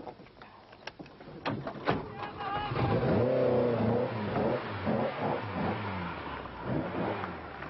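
A 1987 Donegal Rally car cranks with a few sharp bangs, then its engine fires and revs in rising and falling bursts, close by, with voices talking around it.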